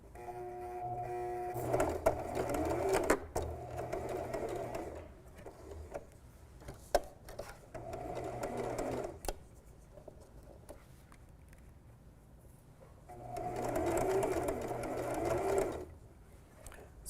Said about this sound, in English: so we're just going to sew right here